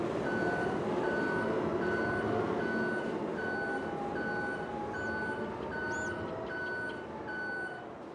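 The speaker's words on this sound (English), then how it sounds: "That beeping would get annoying pretty quick," Truck reversing alarm in Farming Simulator 22: a steady, evenly spaced series of loud beeps repeating about twice a second over a continuous engine rumble, with no talking.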